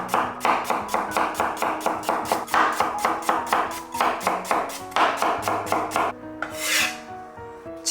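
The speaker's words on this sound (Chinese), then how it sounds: "去皮后给它清洗干净，然后放至菜板上对半切开，再给它切成薄片。" Knife slicing a peeled, washed potato into thin slices on a cutting board, a steady rapid series of crisp chopping strokes, close and loud, ending with a brief scraping sound.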